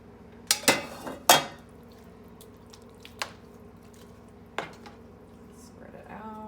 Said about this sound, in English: And then we're gonna add the last of the meat sauce.